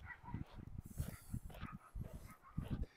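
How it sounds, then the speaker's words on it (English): Dogs barking back and forth in a squabble somewhere nearby during an autumn neighbourhood walk, with repeated bursts of barks and a few yips at a moderate distance and no one talking. "A doggy disagreement over there."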